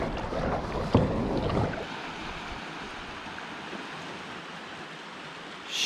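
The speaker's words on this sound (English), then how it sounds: "I'm going to paddle my way in closer." A kayak is paddled toward a wrecked fishing trawler off Eleuthera in the Bahamas; a close paddle splash and stroke are heard over steady wind and water noise.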